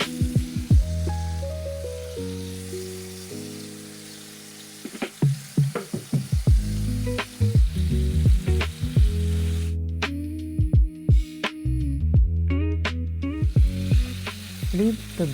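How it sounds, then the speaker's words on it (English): A burger patty fries loudly in a hot pan, a dense crackling sizzle nearby with scattered pops and spits, set against a steady musical background and no speech. "add the burger and let it cook to perfection"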